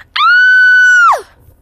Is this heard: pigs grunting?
no